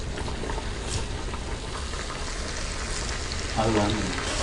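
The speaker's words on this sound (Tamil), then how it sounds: "இப்போ நம்ம ஆயில் நல்லா காஞ்சிருச்சு. இப்போ டீப் ஃப்ரை பண்ணிக்கலாம்." Murukku deep-fries in hot oil, a steady dense crackling sizzle, close and fairly loud, swelling briefly near the end as more dough goes in.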